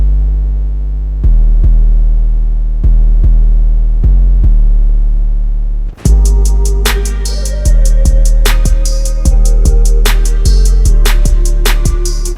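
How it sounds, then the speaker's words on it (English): Loud, distorted, saturated 808 bass drum made in FL Studio, deep booming hits in a repeating beat pattern, joined halfway through by hi-hats, snares and a melodic synth layer. "to finish the drums as a whole, we're going to add the 808"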